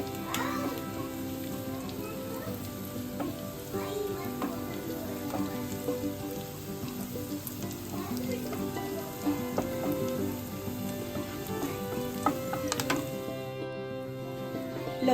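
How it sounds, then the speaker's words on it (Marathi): Garlic fries on a pan until browned, a continuous crackling sizzle like light rain, steady and close throughout with no voices. "लसूण असा खरपूस लाल रंग येईपर्यंत आपल्याला फ्राय करून घ्यायचा आहे पॅनवर।"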